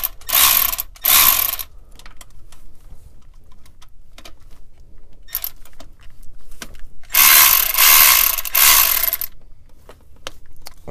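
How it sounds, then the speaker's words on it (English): A 10mm socket ratchet loosens the speed sensor bolts on a 1995 Honda Civic: loud, close bursts of rapid clicking, separated by quieter pauses with small scrapes and taps. "we're going to take our 10mm socket and get on these two little bolts on the side of it and then bust them loose"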